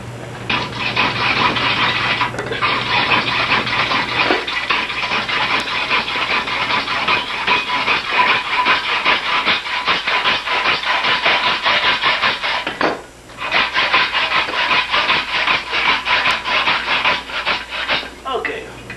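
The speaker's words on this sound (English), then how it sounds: "You know how to operate a hacksaw if you're mechanically inclined." A hacksaw cuts through pipe while a wall-hung sink is being installed, making loud, close, rhythmic rasping strokes that continue steadily, with brief pauses around the first few seconds and near the end.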